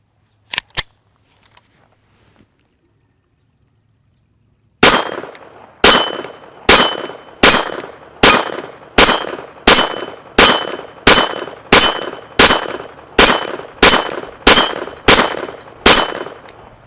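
A Taurus TX22 pistol fires hyper velocity .22 ammunition, two quick sharp shots followed by a pause, then a steady string of thirteen loud cracks at an even rhythm, each with a short ringing tail.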